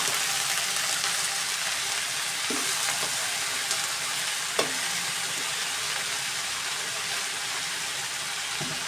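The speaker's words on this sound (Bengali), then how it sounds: "এখন শাকটাকে সুন্দর করে একদম ভাজা ভাজা করে নিব" Chopped leafy greens fry in a pan with a continuous, dense sizzle and crackle, close and steady throughout, with a couple of faint utensil taps.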